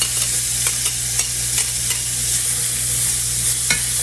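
Purple onions fry in butter and olive oil in a skillet, a loud, steady sizzle with repeated scraping stirs of a utensil throughout.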